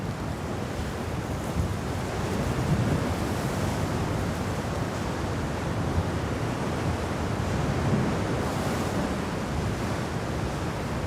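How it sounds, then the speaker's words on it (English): Sea waves and wind roar steadily at a cliff diving site in Puglia, Italy, during the Red Bull Cliff Diving World Series 2021, with the wind at 44 km/h; the dense, constant rush buffets the microphone without pause. "You hear the waves, you hear the wind."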